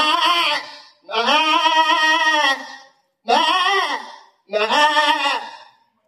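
A human voice mimicking two frightened goats bleating, four loud, wavering, nasal calls in close succession with short pauses between them, heard alone.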